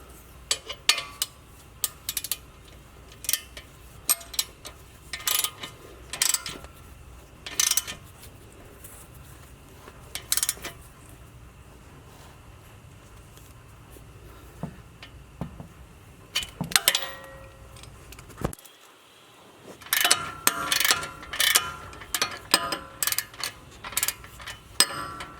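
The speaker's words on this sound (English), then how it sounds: "Now I'm just going to torque these back down." Pod light mount bolts on a Jeep Gladiator are torqued back down, with repeated sharp ratcheting clicks in short bursts separated by pauses and a denser flurry of clicks near the end.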